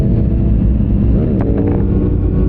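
A vehicle pulls away in first gear on a notoriously dangerous road, its engine rumbling loud and close in a steady, continuous drone.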